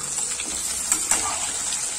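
Stuffed okra (bharli bhendi) fries in a dry pan with spices while being stirred, giving a steady sizzle with a couple of brief scraping stirs.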